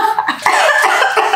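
A person's cough bursts out in short harsh rasps, loud and close, followed by a longer throaty fit, in a candle-lit room.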